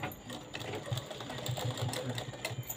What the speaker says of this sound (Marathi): इथं शिलाई पॅक करायची आहे